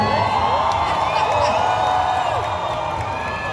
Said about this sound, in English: Yeah, you guys can cheer.